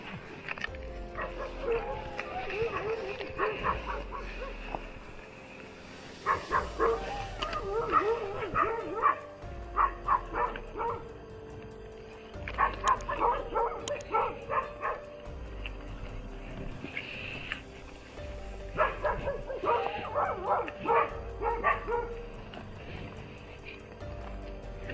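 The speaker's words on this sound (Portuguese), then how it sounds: "O cachorro tá indo pra cá." A dog barks and yips outdoors at night in repeated rapid bursts separated by pauses, moderately near, with faint voices and low background rumble between volleys.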